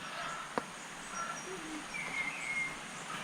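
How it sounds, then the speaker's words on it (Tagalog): Faint bird calls chirp intermittently over a quiet outdoor campsite background at Camp Payapa, Siniloan, Laguna, with a brief sharp knock partway through. "Narinig niyo yung ibon."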